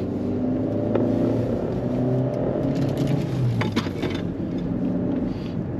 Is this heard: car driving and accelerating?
yes